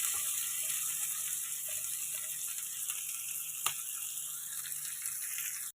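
Onions and curry leaves sautéing in a pan for a brinjal tamarind curry, a soft steady sizzle with occasional faint stirring clicks, continuous and fairly quiet.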